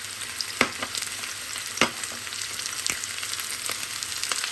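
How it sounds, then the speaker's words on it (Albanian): Two chopped onions frying in oil in a pan, a steady bright sizzle with occasional sharp pops and stirring scrapes, close and continuous without talk. "E shtojna 2 qepë në dritosë,"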